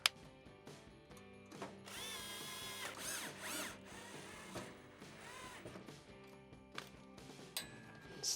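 A power drill driving screws during a Whirlpool gas stove safety valve repair, heard as whirring motor runs in short bursts with rising and falling pitch, close and fairly quiet, separated by clicks and small handling noises.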